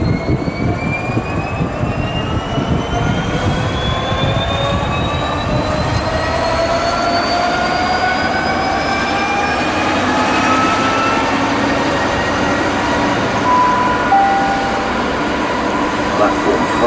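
A train departs Bristol Temple Meads station, a loud continuous rumble of wheels and engine with rising whining tones as it gathers speed, steady throughout with no break.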